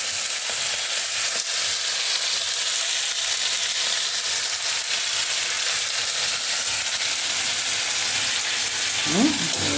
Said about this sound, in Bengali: আর এই দেখো কড়াইয়ের মধ্যে চিংড়ি মাছ